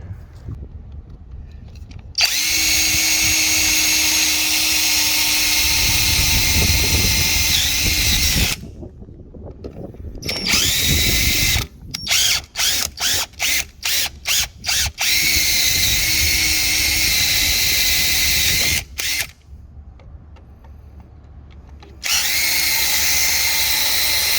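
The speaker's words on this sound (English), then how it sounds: "how you remove the rivets on the lights, we're gonna be using a drill bit" A power drill whines loudly up close in long bursts, drilling out rivets on trailer dock bumper lights, then a rapid series of short trigger pulses, with quiet gaps between runs.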